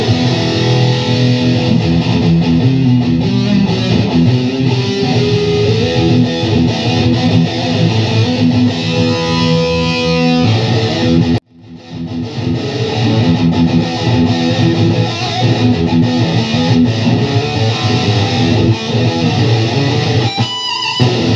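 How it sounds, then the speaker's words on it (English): Distorted electric guitar chords strum a steady rhythm through a Behringer UM300 pedal with delay, echoing repeats trailing behind each chord; a brief pause breaks the playing partway through. "I think the rhythm sounds good with delay too."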